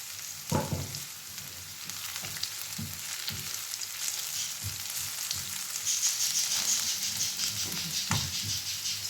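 Cabbage fries in a pan with a continuous close sizzle, broken by a few soft stirring knocks, and no voices.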